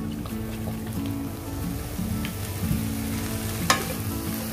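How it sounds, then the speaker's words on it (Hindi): Chicken with soy sauce sizzling in a pan for samosa filling, a soft steady sizzle with stirring scrapes and a short sharp clink near the end, fairly quiet. "सोया सॉस ऐड करने के बाद आपने चिकन को जस्ट 20 to 30 सेकंड तक पकाना है लो टू मीडियम फ्लेम पे"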